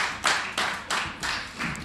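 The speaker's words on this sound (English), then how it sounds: "you hear the crowd at the Lopping Hall" Wrestling crowd at Lopping Hall in Loughton clapping in a steady rhythm, four or five broad bursts of hand claps from a mid-distance audience at a live WrestleForce event.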